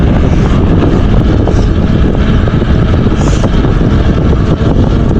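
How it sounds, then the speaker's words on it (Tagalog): Strong wind buffets the microphone during a ride from Kuwait toward the Saudi border, a loud, constant rushing roar that continues without a break and with no talking. "Sobrang hangin."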